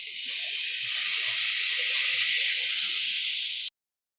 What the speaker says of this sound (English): I'm gonna strain in the juice, and that's gonna reduce the temperature of these spices to make sure that they don't burn.